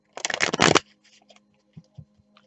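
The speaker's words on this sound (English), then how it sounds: "Let me shuffle one more time." A quick riffle of tarot cards being shuffled, a short burst of rapid flicking, followed by a few soft taps and clicks as the deck settles.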